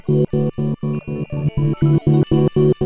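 Electric guitar sent through two blended pedal chains, a ring modulator with a banana pedal and a Dark Star with a stutter pedal, producing a steady pulsing train of about a dozen choppy, metallic chord bursts with warbling high overtones, loud and alone.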